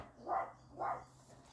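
A dog barks twice, two short, evenly spaced woofs that sound somewhat distant and soft against a quiet indoor background.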